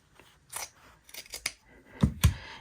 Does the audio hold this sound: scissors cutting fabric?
yes